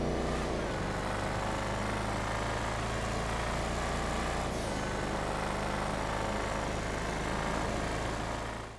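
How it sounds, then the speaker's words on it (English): Buffalo STX car in GTA Online, a supercharged engine droning steadily at high revs with a whining tone layered over a deep low rumble, loud and continuous before cutting off at the end. "Another car with that supercharger whine, and it happens to be the Buffalo STX"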